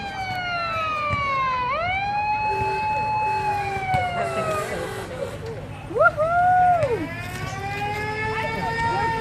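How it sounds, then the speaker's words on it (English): A siren wails loudly nearby, its tone sweeping up and down in long rising and falling cycles, then restarting with a sharp upward whoop. "this guy's got a siren not to be outdone."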